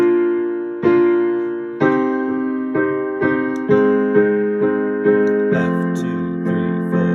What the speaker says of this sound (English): Pre-chorus in 1 hand could sound like this.